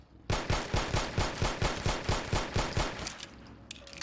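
A 10mm pistol in Fallout 4, a basic unmodded version with a 12-round magazine, fires a steady string of about a dozen evenly spaced loud, close shots, then stops and leaves quieter mechanical clicks.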